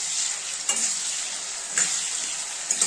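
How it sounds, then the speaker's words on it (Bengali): Food frying in a pan for a vegetarian matar paneer, a constant bright sizzle up close with three brief stirring scrapes spaced through it. "এখন এটাকে একটু ফ্রাই করে নেব"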